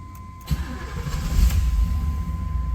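A 1989 Chevrolet Camaro convertible engine starts with a brief crank that catches at once, then settles into a loud, steady idle close by, with the hood open.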